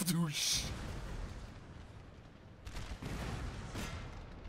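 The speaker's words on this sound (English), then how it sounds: "Swing the cannon on the left! Fire!" Cannons in Napoleon: Total War boom in a couple of heavy, rumbling volleys over ongoing battlefield noise, with a voice shouting commands.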